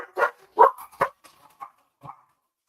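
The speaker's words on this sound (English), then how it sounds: "My dog." A dog barks several times in quick succession at close range, the barks loud at first and then trailing into fainter, softer yips, with no talk over them.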